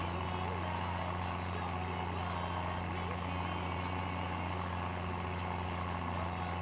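An old tractor from a vintage-equipment farm in Farming Simulator 19 drives along at steady speed, its low engine drone constant and close with faint mechanical clatter on top, no talk over it.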